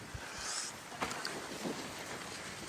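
Wind gusts outdoors beside a tall Halloween Blood Howler decoration, a steady broadband rush that swells and buffets against the microphone throughout, with no voices.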